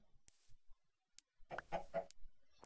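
Short clucks and squawks from a chicken laying an egg in Minecraft, a few soft game blips followed by a cluster of clucking notes near the end, heard alone.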